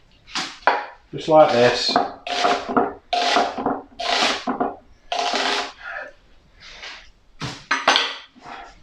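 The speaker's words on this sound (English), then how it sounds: "So what I'm going to do is just chop these up like this in the strips." A knife chops an onion into strips on a board while making Bob's Burgers-style burgers, giving light, uneven cutting taps and knocks under a person's steady talk.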